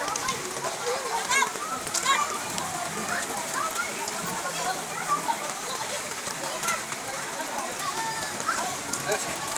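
Steady rain falls around an outdoor swimming pool, making a dense continuous patter with scattered drips throughout, while a person talks faintly in the background.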